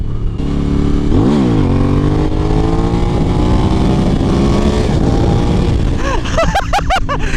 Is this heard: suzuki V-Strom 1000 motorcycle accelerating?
yes